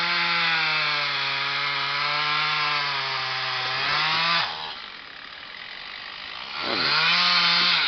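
Battery-powered saw cutting wood, a loud buzzing whine held steady for about four seconds, a short pause, then cutting resumes; no talk.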